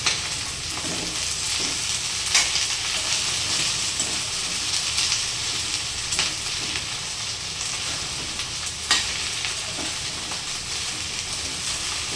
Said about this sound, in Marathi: भेंडी छान परतून घ्यायची